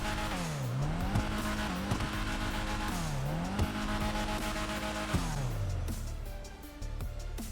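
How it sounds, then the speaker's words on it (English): In GTA Online, a Karin Everon RS with a manual transmission revs hard, its engine rising and falling through repeated loud sweeps. The revs settle toward a lower idle at the end. "let's give it some gas and do that sound test"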